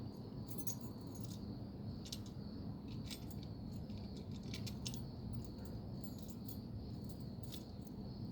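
Keys jangling at a storage unit, a dense bunch of metal keys clinking in irregular bright bursts over a steady low background hum, quiet and close.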